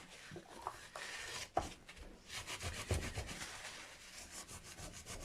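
A paper towel rubs and wipes over the parts of a Squier Vintage Modified Jaguar guitar during a switch repair, making soft close scuffing strokes in short irregular bursts with quiet pauses between.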